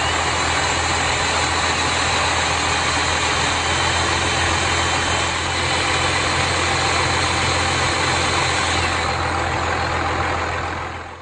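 A car engine idles steadily with a turbocharged exhaust running during drilling of the exhaust manifold, a loud, constant rumble with no clear breaks or changes.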